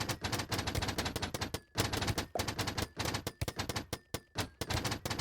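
Rapid-fire tower explosions in a video game, a dense, loud stream of sharp bursts like machine-gun fire, broken by several brief gaps.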